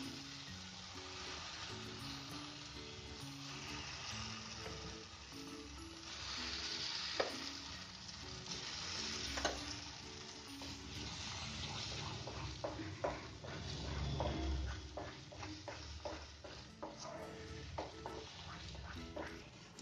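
Mustard greens sizzle steadily in a hot pan, with a constant frying hiss and occasional clinks and scrapes of stirring.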